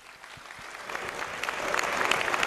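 An opening ceremony audience applauds sponsors, the clapping swelling from a moderate patter into a fuller, steady ovation of many hands that carries on without pause.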